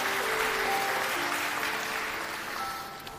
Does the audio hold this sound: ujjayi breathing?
no